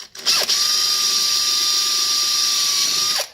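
A power drill runs steadily for about three seconds, drilling through a plastic drilling template for a Rytek Marine TM150 transducer bracket, its whine loud and close from start to finish.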